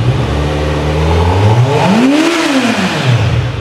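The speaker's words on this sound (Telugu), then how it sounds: "What a screaming in line 4." A 2025 Kawasaki Z900 inline-four engine revs hard and close, its pitch climbing in a rising sweep to a screaming peak and then falling back to a steady idle, loud throughout with no talking.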